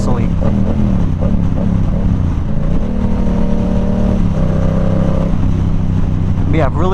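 Yamaha R7 motorcycle exhaust burbling at low RPM, a loud, steady, deep muscular drone with a brief rev rising near the end.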